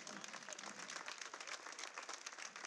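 A festival crowd at the Festa Major of Móra la Nova applauds two young dancers after a dance duet, with soft, distant clapping that carries on steadily at a low level.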